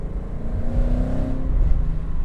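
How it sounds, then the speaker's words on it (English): A Ford Mustang GT engine rumbles steadily at low pitch, a deep continuous exhaust drone with an exhaust leak, swelling slightly without any talking. "Good time to check out the exhaust, see how it sounds"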